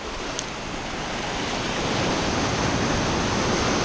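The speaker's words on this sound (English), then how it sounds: "Got some white wash." Ocean surf breaks into whitewash, a loud steady roar of churning water with some wind noise on the microphone, building slightly and filling the whole stretch without talk.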